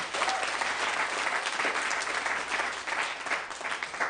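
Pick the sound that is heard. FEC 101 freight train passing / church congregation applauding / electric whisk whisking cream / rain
church congregation applauding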